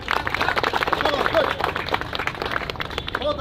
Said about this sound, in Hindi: सभी इसके लिए ताली बजाइए।